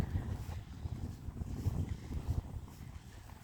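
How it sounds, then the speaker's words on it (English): Wind gusting at a marina sailing club on a winter day near the water, a steady low rumble of buffeting on the microphone with irregular surges, no talking. "The wind's getting a bit up here."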